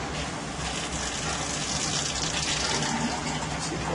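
Tap water gushes steadily through the cooling jacket of a distillation condenser set up at a sink, a close, continuous rushing flow with no one speaking over it.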